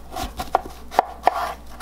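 A knife slices through a cantaloupe on a cutting board in three sharp, close cuts spaced about half a second apart, each a brief crisp thunk against a quiet background.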